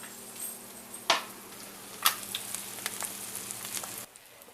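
An egg fries in butter in a pan just after being flipped, a steady soft sizzle with a few sharp crackles and pops, close and alone, ending abruptly.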